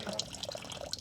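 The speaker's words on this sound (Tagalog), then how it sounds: "May tumutulo pa." Water from a leak still trickling and dripping in a small farm setting, a faint, steady watery patter with soft separate drips scattered through the moment.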